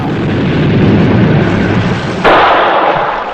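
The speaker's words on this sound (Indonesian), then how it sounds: "dia melempar sebuah granat dan akhirnya duar, meledak" A grenade explosion: a loud, dense blast of broadband noise that swells, then a sharp burst of debris-like crackle before fading, with no voices.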